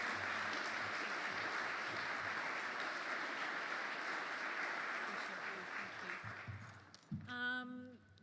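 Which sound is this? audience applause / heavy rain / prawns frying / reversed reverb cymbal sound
audience applause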